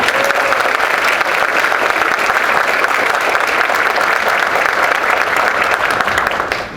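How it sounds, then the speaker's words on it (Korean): An audience applauding at a Korean-language teachers' academic conference: dense, steady clapping from a large crowd filling the room, sustained for several seconds before beginning to fade at the end. "다시 한번 큰 박수 부탁드립니다."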